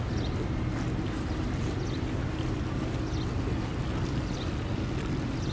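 A loaded cargo barge carrying stone motors along a canal on two engines, a steady low rumbling drone with water wash and wind noise running continuously throughout.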